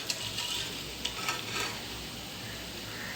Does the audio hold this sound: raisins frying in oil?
yes